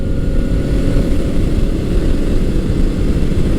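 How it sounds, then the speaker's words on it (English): A 1998-2001 fifth-generation Honda VFR800 V4 on the move along back roads, engine droning at a steady deep pitch with constant wind rush, loud and close, no talking. "I'm just riding this bike on some back roads and enjoying it"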